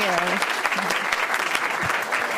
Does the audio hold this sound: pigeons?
no